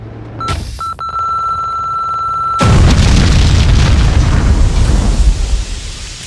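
A bomb in the video game Max Payne 2 detonates with a sudden, loud roar that follows a steady ringing tone and then sustains as a heavy, rumbling blast for several seconds.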